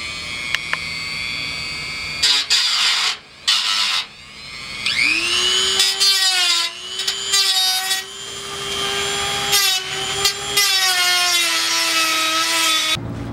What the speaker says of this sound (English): He gave up and he went to go buy a Dremel